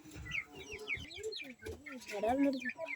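Chickens clucking and squawking close by, with overlapping calls and a person's voice mixed in.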